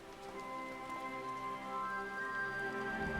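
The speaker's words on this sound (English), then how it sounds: "Beautiful rain." Soft rain in the video game Final Fantasy XIV, a faint, steady patter beneath sustained musical tones that continue throughout.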